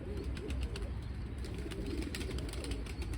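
Pigeons in a coop cooing softly and repeatedly, low murmuring calls at moderate distance over a faint background, with occasional light rustling.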